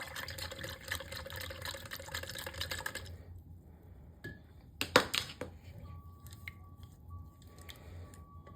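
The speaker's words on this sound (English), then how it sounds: "You're then going to want to whisk this." A pink clay cream cleanser mixture is whisked in a bowl, with soft, rapid, wet squishing and tapping for a few seconds, then quieter scattered clicks and small knocks.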